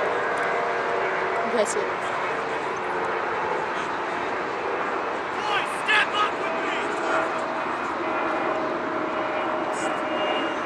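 An airplane drones overhead with a steady, sustained engine roar that holds throughout, while people talk nearby.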